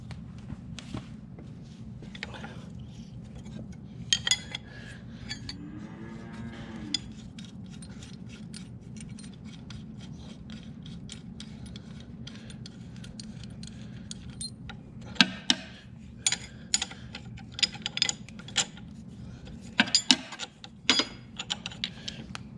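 Two 15/16 wrenches working on tillage equipment, giving scattered metallic clinks, taps and ratcheting clicks at close range over a steady low background hum.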